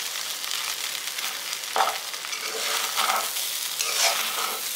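Garlic pepper rice is stirred in a pan, a soft, continuous sizzle broken by a few scraping strokes of the spoon, fairly quiet and with no voices.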